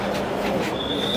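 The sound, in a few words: metro train arriving at a station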